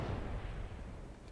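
A grenade explosion in a video game, a dense, booming low rumble that fills the whole moment and slowly fades, heard alone without talk.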